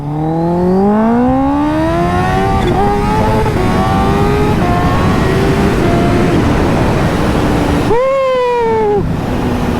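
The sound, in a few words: Kawasaki H2 supercharged motorcycle engine revving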